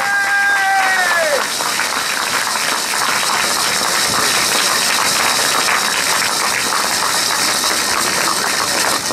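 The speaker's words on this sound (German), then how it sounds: "Kleiner Applaus dafür." A small round of applause from the crowd at a professional cycling award ceremony in Cologne, a steady dense clatter of hands that carries on for the whole stretch. A brief voice comes in at the start.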